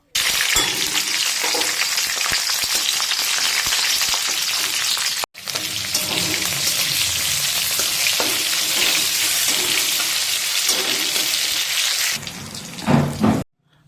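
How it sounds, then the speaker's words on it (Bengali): Panch phoron and green chillies fry in hot oil in a wok, giving a loud, continuous crackling sizzle. There is a brief break near the middle, and the frying turns quieter toward the end with a few stirring clatters. "তো সেই তেলের মধ্যে দিয়ে দেবো 5 ফোড়ন আর কাঁচা লঙ্কা"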